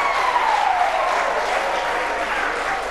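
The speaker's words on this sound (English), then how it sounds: "Let's give them a round of applause." A studio audience at a game show applauds to welcome contestants, with continuous dense clapping at steady volume and a faint sliding tone running underneath.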